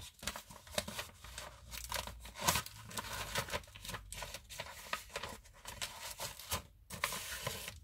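Paper and cardboard of a glued mail package torn open by hand, a run of irregular ripping bursts and crinkling rustles, close and fairly loud, with brief pauses between pulls.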